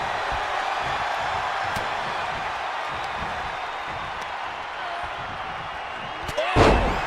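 A clubbing blow in a WWE ring match lands as a single sharp thud near the end, after a long stretch of steady arena crowd noise.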